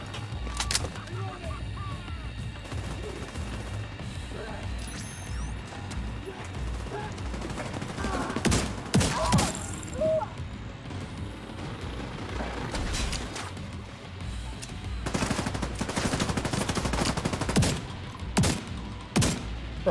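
Shotgun blasts and other gunfire in Tom Clancy's The Division 2, a dense firefight of sharp repeated bangs at close range, with a heavier burst near the middle and more shots toward the end, under occasional speech.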